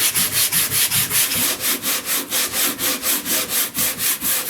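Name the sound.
sanding a boom grip joint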